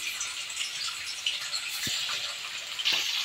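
Paneer pieces frying lightly in a pan of hot oil give a steady, soft, high hiss with a couple of faint low knocks, close by and with no talking.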